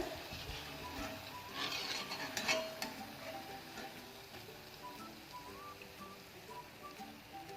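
Fried luqaimat sweets are lifted from hot oil with a ladle, giving light metallic scrapes and clinks over a steady, soft sizzle of frying, with one louder scoop near the middle and no talk.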